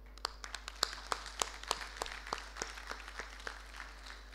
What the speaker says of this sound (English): Can we please clap for him?